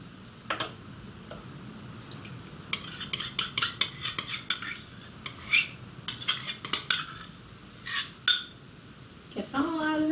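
Spoon stirring softened gelatin into fruit pulp and juice in a bowl, with scattered clinks and scraping taps against the dish that come in uneven bursts, fairly close and moderately loud, with a voice speaking briefly near the end.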